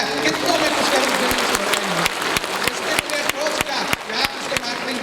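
A seminar audience at a success day event in Patna claps loudly and steadily, a dense wash of applause with sharp individual claps standing out, with a voice heard faintly beneath the crowd.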